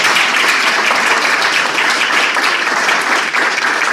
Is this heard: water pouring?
no